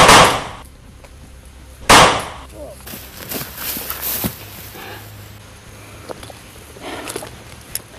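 Firecrackers are set off outdoors: two sharp loud bangs a couple of seconds apart, followed by scattered smaller pops and rustling, with faint voices in the background.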